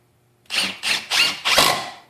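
Milwaukee M18 impact driver sinking a 1 1/4 inch screw into wood: four rapid hammering bursts in quick succession, loud and close, buzzing and rattling with no talk over it.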